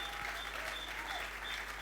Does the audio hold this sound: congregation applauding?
yes